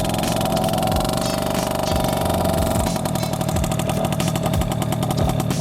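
A Yamaha Alfa II R motorcycle ridden indoors, its engine running steadily and loud throughout, with a rougher, pulsing note in the second half as the throttle changes.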